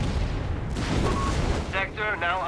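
A Company of Heroes 3 battle scene with a loud anti-tank half-track gun firing and missing, a dense boom and rumble of artillery and explosions with a brief tonal burst near the end, under a game commentator's voice.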